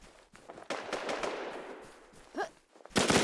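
Gunfire from the video game Infestation while shooting a boss: a rapid crackle of shots, then a lull with a brief swooping effect, then another loud burst of fire at the end.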